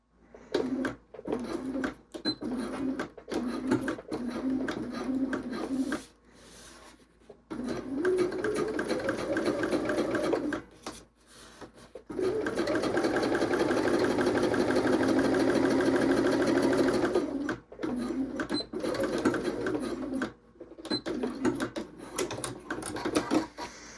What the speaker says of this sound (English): now I will top stitch across the top of the pocket.